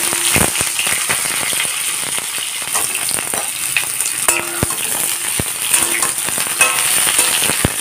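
Vegetable stalks sizzle in hot mustard oil tempered with nigella seeds in a kadai, a steady dense crackle with sharp spits and pops throughout, close and alone with no talking.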